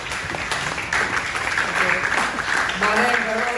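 Mourners at a eulogy for Nora give loud applause, a steady wash of many hands clapping with a voice calling out over it and a continuous tone underneath.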